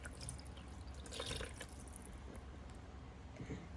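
Slightly warm coffee trickles slowly into a chicken and zucchini casserole mixture of eggs, a faint soft splashing and dripping with a few brief gurgles, quiet and close.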